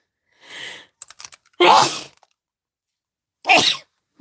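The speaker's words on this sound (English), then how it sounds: "I'm gonna sneeze." A person sneezes in a home craft room: a quick breathy inhale, some small clicks, then a loud burst, followed by another sharp sneeze after a short pause.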